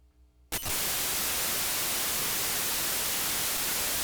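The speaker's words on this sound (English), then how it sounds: "Here is the actual raw data of this video converted into audio." Raw video data of Portland rendered as sound: after half a second of low hum, a loud, dense burst of static and white noise kicks in abruptly and continues steadily to the end.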